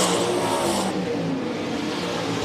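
Race cars roar past in a dirt-track heat race at Rapid Speedway, a loud, continuous engine drone with broadband rumble that drops slightly in brightness after the first second.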